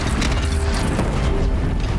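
Booming cannon shots and mechanical clatter from a heavy gun turret fired against bandits in Horizon Zero Dawn, a loud, sustained barrage with deep thumps filling the whole moment.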